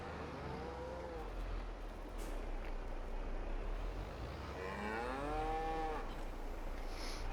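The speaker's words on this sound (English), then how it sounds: "Right, happy cows." Cows in the farming video game Farming Simulator 22 low over a constant background drone: one moo early, then a longer, louder bellow near the end, both moderately distant.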